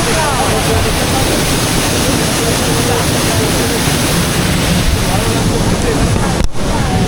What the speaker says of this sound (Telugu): ఏదో చిన్న వాటర్ ఫాల్ పైన పడుతుంది అంతే